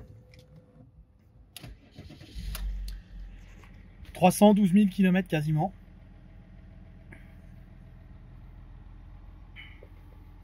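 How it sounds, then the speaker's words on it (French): A BMW E39 530d diesel with 312,000 km cranks and catches with a low rumble, then settles into a steady idle under a voice. "on va démarrer la voiture"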